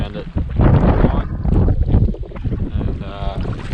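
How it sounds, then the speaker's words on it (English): Strong gusty wind buffets the microphone on a lake while fishing in rain, a loud continuous roar with rushing surges and no clear speech. "Pretty wild conditions at the moment, pretty windy, it's raining"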